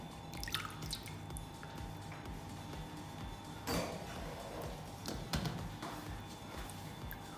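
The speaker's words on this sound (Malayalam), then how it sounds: "അപ്പോൾ വാട്ടർ പ്രൂഫ് വെള്ളത്തിലേക്ക് ഇട്ട് നോക്കാം" Water drips and splashes around an iPhone 11 during a water-resistance test, a few distinct close drops and splats over a quiet background with no speech.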